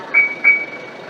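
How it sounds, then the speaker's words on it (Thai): Two short electronic beeps chirp in quick succession over a quiet background hum as a 2022 Isuzu D-Max pickup's engine is shut off by remote smart key. "ดับเครื่องครับกดรีโมท ปุ่มบนสุดครับกดทางไว้"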